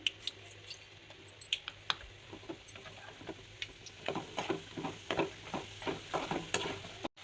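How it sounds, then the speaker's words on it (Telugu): Urad dal, chana dal, peanuts, mustard seeds and cumin fry in oil for mango rice, soft quiet sizzling with scattered sharp pops and crackles that grow busier toward the end. "ఇప్పుడు ఉద్దిపప్పు, శనగపప్పు, శనగిత్తనాలు, ఇప్పుడు ఆవాలు, జీలకర్ర వేసుకుందాం."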